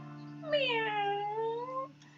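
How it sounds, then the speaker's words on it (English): A single drawn-out, plaintive cat meow rises and then falls over about a second and a half. It is soft and alone over a quiet steady hum. "I heard a plaintive meow"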